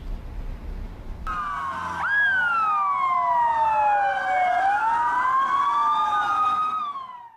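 Ambulance sirens from a convoy of 30 emergency health vehicles in Samsun wail loudly, several overlapping tones sweeping up and down after a short stretch of background noise.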